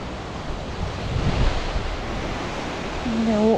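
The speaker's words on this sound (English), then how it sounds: "We're walking alongside this lovely waterfall." A waterfall beside a Lake District walking path gives a steady, broad rushing roar throughout, mixed with wind buffeting, and a brief voice-like tone near the end.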